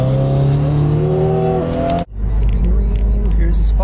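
A car engine hums steadily from inside while driving, with a clear pitch that rises and holds. It then drops briefly as the gear changes, and a deeper, rougher engine note follows.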